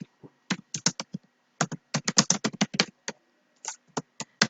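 Someone types on a computer keyboard nearby in uneven bursts of clicky keystrokes separated by short pauses, with no talking.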